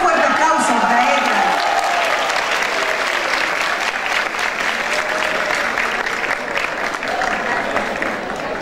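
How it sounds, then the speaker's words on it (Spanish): A crowd at the ExpoCundinamarca 2018 event claps loudly for an honored regional representative, sustained applause filling the whole stretch, with a brief voice over the opening. "Un fuerte aplauso para ella."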